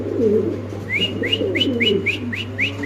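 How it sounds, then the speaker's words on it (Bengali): A male white Spanish pigeon coos in low, rolling murmurs, close and continuous, while brief high chirping whistles repeat over it. "এই বয়সে নর কত সুন্দর কুরকুরে রাখতেছে"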